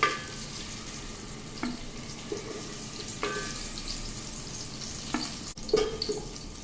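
Food frying in oil while cooking Sindhi biryani, a soft steady sizzle with a few spoon stirs and scrapes against the pan, faint and continuous with no talking.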